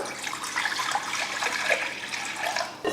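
Steady running water pouring into a kadai, a continuous splashing rush without pause.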